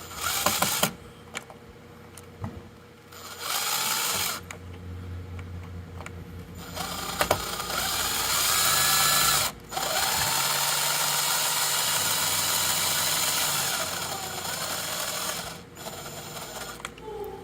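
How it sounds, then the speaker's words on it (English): A power drill drives a screw down through wood on a custom pinball spotlight mount, whirring loudly and steadily in long runs broken by brief stops and clicks before a slower finish. "I'm not gonna go 900 miles an hour on the drill all the way down and through."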